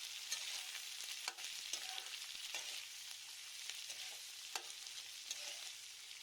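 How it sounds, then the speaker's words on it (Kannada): Chopped onions fry in a pan for vermicelli upma, a faint, steady sizzle broken by occasional sharp ticks and stirring scrapes, with no voices. "ಈರುಳ್ಳಿ ಕಂದು ಬಣ್ಣ ಬರುವವರೆಗೂ ಸ್ವಲ್ಪ ಹೊತ್ತು ಹುರಿದುಕೊಳ್ಳೋಣ."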